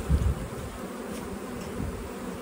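Honeybees flying around an open hive packed with brood on a mild day after snow, a low continuous buzzing hum that stays steady and fairly faint, with no voices.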